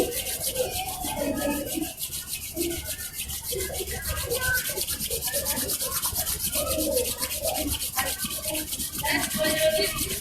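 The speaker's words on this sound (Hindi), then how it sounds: "दोनों हाथों को आपस में रब करें और तेजी से करें।" Two palms rub quickly together in a yoga session, a continuous close-up dry swishing friction that holds steady throughout.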